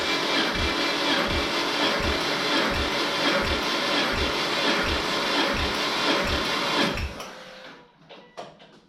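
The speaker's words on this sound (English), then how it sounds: "we cranked it with the compression tester plugged into cylinder 1" An engine cranks over on the starter with a compression tester fitted in cylinder 1 of a project car, giving a steady rhythmic chug of about a dozen even compression pulses that stops abruptly, leaving faint clicks.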